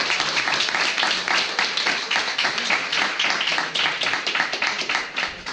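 Steady, dense applause from a conference audience after a software talk fills the whole stretch, many hands clapping at once without a break.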